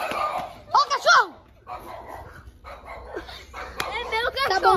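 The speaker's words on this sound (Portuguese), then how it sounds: "É meu cachorro." A pet dog barks in short yapping bursts near a home, mixed with people talking loudly over and between the barks.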